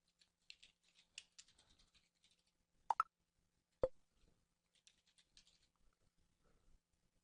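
Computer keyboard being typed on to enter a username and password, soft scattered keystrokes in short runs, with a couple of sharper clicks standing out, quiet and close with no voices.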